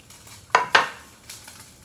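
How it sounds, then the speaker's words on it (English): Bacon going back into a thickening gravy in a pan, heard as two quick metallic scrapes of a utensil against the pan and then a fainter clink, close and brief. "then I'm going to put my bacon right back into the gravy"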